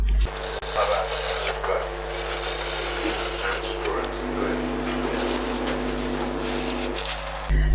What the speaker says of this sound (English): You're going to want to line up your logo with the card, and then you're going to cut around it.